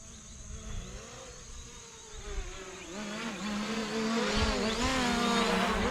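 A small Hubsan Zino Pro drone's high buzzing whine grows louder as it sweeps in close over a hay field, the pitch shifting as it passes. No one speaks.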